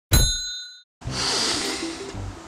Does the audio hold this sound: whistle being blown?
no